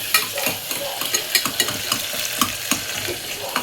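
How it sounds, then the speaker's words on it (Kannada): Chopped onions fry in a pan toward golden brown while being stirred, with a steady sizzle and repeated scraping clicks of the stirring utensil, close and moderately loud, with no talking. "ಉಳ್ಳಾಗಡ್ಡಿನ ಫ್ರೈ ಮಾಡ್ಕೊತೀನಿ ರೀ"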